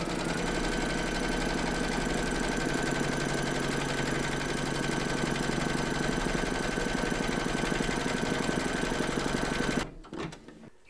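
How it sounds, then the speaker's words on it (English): A home embroidery machine stitches a crazy-patch quilt block with batting held in the hoop, a steady loud mechanical whir with fast needle rhythm running continuously before stopping abruptly near the end. "Pop your hoop into your machine and stitch round number 2 to secure it."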